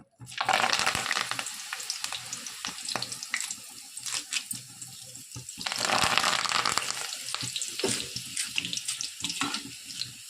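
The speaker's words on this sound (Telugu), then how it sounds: "కరివేపాకు కూడా ఫ్రై చేసుకుంటున్నాను" Curry leaves frying in hot oil for boondi, a close bright hissing sizzle that swells and fades in bursts, with intermittent clinks of a utensil and no talking.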